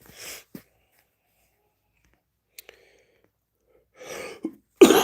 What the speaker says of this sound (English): Coughing there.